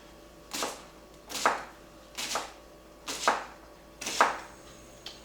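A knife chops through an onion on a cutting board in five evenly spaced, crisp strikes, close and clear with no talking.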